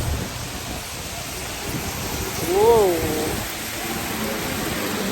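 Heavy rain falls steadily on a day in Benidorm, a constant dense hiss of drops throughout, while a voice briefly exclaims partway through.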